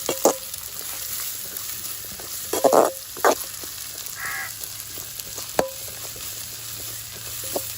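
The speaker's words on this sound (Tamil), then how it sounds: "நல்லா வதங்கட்டும்." Small shallot onions sautéing in a pan for Kerala-style fish pollichathu, a soft steady sizzle with occasional utensil clinks and taps over the frying.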